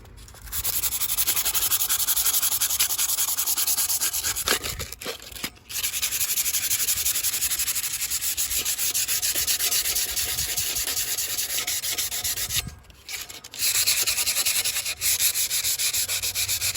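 Continuous abrasive scraping as 100 grit sandpaper is rubbed across the brake rotor of a 1983 Honda Shadow VT750C motorcycle to deglaze it, steady and close with two brief pauses.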